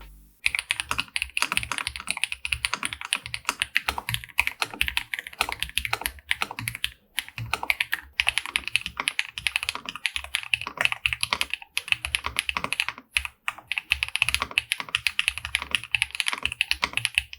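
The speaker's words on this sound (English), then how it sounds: "The Maxfit6 has linear white switches, they're pretty light to the touch" Rapid typing on a Fantech Maxfit6 65% mechanical keyboard with light linear white switches, smooth keystrokes clattering continuously and close up, with brief pauses, and no voices.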